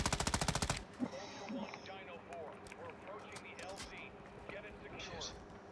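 Call of Duty gunfire opens with a fast, loud machine-gun burst in the first second, then scattered shots and game noise continue under voices talking.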